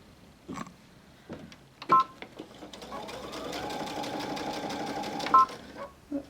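A sewing machine stitches fabric for a bag in a rapid, steady run of mechanical clatter, with a few short starts and stops and faint voice beforehand.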